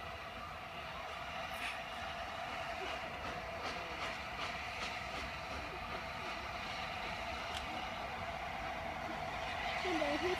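A steady rumble of a passing train with faint clacking, heard from nearby outdoors, with a voice murmuring faintly.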